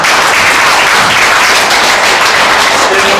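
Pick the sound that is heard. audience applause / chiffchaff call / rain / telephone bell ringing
audience applause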